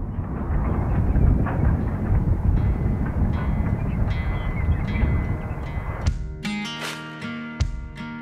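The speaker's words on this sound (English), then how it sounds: "broadside of our train as it cuts through the middle ground" A double-headed Goose Lake Railway freight train of 23 cars rolls past in open country, giving a broad continuous rumble with wind buffeting, then sharper wheel and coupler clanks and squeals toward the end.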